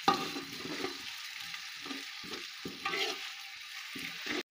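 Dark-browned onions with ginger garlic paste sizzling and being stirred in a pan, a steady frying hiss with scraping stir strokes, close and moderately quiet, no talking.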